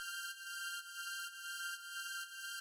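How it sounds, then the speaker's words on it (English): A thin, sustained synth drone with steady high tones, pulsing faintly in a regular rhythm, quiet and alone. "the last synth that we have here is this little drone string thing"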